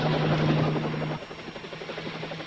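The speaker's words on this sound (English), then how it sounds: "A helicopter coming out of the east in the rising sun." A crop-dusting helicopter flies in at sunrise with a loud, steady rotor drone and engine hum that eases slightly partway through while staying close.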